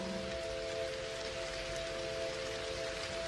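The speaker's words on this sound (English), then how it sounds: "It's starting to rain. The raindrops are gently dancing on the exterior of your pod." Rain falling steadily on the outside of a meditation pod, a soft continuous patter of drops alongside a sustained tonal hum, no voices.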